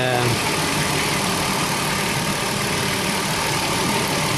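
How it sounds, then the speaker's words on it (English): A 3.3-litre V6 in a 2004 Chrysler Grand Voyager idles steadily with a dense, even mechanical hum that continues throughout, with no talk over it. "I'm gonna run the engine until the"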